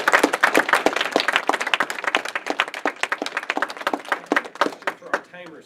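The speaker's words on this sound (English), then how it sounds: "And I think she needs a big round of applause." A modest audience at a Toastmasters speech contest claps in crisp, distinct hand claps that thin out toward the end, where a voice briefly starts up.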